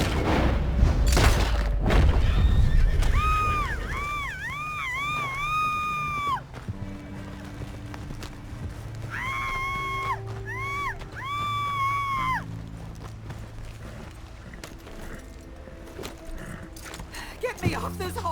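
A horse in Red Dead Redemption 2 gives two shrill, wavering neighs, each lasting a few seconds, with heavy hoof thuds and rumbling game noise throughout and a loud burst of impacts at the start.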